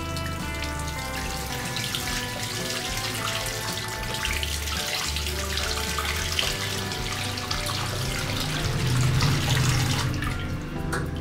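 Water runs steadily from a faucet fitted with a tap filter attached to PVC piping, a continuous loud splashing rush with faint dripping, alone without speech.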